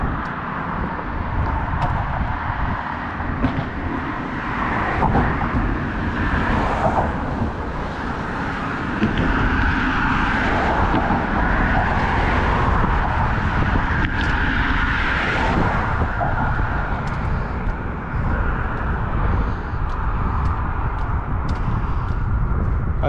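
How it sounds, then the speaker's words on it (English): Steady wind roaring across a microphone on the South Park Bridge, a continuous loud rumbling gust with faint traffic beneath, sustained for the whole stretch without pause. "You probably hear the wind flowing."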